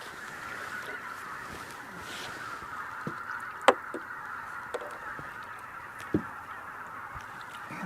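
A large flock of about 1,000 geese keeps up a continuous chorus of distant honking and calling over open water, with a few louder nearer honks standing out from the steady din.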